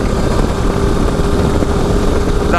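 A 2025 Harley-Davidson Low Rider ST with a 2-into-1 exhaust roars at speed, a loud continuous engine drone with a steady low rumble and wind noise, no voices heard.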